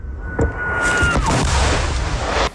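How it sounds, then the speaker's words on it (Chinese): Artillery shelling on the Bakhmut front line: a sharp boom near the start followed by a sustained, loud roar of blasts and rumbling that fills the whole stretch, with a faint tone early on. "巴赫姆特前线炮弹狂轰"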